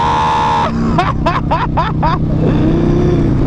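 A Harley-Davidson CVO Limited motorcycle with a 117 engine rumbles steadily, then blips its revs in five quick rising bursts while downshifting, close and loud, with a rider's voice faintly over it.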